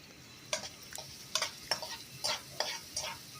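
Chopped medium onion frying in oil for a dhaba-style dal mash, with about six spaced stirring scrapes over a soft, steady sizzle, heard close but fairly quiet.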